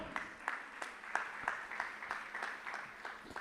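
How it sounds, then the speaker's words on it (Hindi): A small audience at a spiritual Q&A gathering claps in a loose, rhythmic pattern, fairly faint and roomy, with individual hand claps audible in the steady patter. "तालियां तालियां तालियां"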